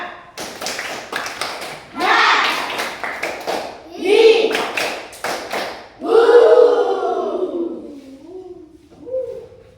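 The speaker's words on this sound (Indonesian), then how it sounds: "Ayo, tepuk semangat." A class of children clapping a rhythmic cheer chant, sharp claps in bursts mixed with loud chanting voices, ending with a short spoken line.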